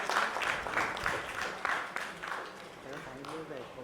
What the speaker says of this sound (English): Let's give him a huge, huge round of applause.